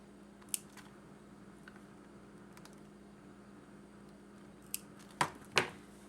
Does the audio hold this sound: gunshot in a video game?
no